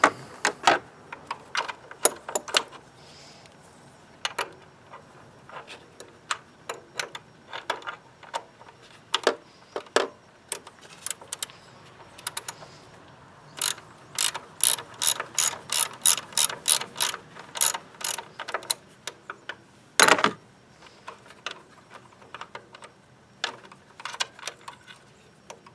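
A 9/16 socket ratchet working loose the PCV valve on a Kia Rondo 2.4L engine, rapid bursts of clicking pawl ratchets in repeated runs with short pauses, close and crisp, no talk.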